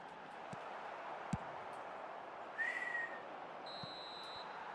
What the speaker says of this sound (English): The whistle's gone, and that's it for the first half.